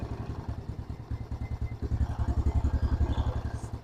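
A motorcycle engine revs in rapid pulsing bursts while its carburetor is being tuned during a service for sputtering and stalling, loud and close with a steady throb.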